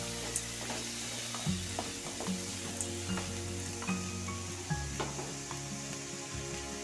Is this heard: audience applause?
no